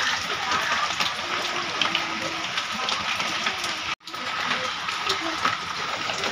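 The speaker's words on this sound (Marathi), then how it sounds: "बघा, भरपूर पाऊस पडतो, सगळीकडे पाणी पाणी झालं म्हणजे" Heavy first monsoon rain pours down in Mumbai, a dense, even hiss of falling water and splashing on wet surfaces that runs steadily throughout, with faint voices beneath.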